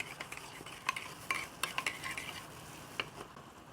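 A spoon clinks and scrapes against a bowl while a soy sauce and oyster sauce marinade with sesame oil is mixed, a faint series of irregular light taps and swishes with no voice.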